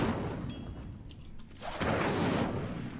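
An Incendio fire spell cast in Hogwarts Legacy, a brief whooshing burst of flame that swells in the second half over steady game background noise.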